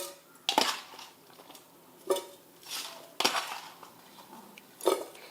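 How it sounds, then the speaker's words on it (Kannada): Salted lemon pickle mixture being put into a vessel: a few separate clinks and scrapes of a spoon against a metal pot, spaced a second or so apart, quiet and close. "ಈ ರೀತಿ ಉಪ್ಪೆಲ್ಲ ಮಿಕ್ಸ್ ಮಾಡಿ ಈಗ ಒಂದು ಪಾತ್ರೆಗೆ ಹಾಕೋತೀನಿ ನೋಡ್ರಿ"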